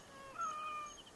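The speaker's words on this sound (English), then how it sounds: "Oh, there's a random cat walking around here." A cat in Assassin's Creed Origins gives one faint, thin meow, with quiet ambient game sound around it.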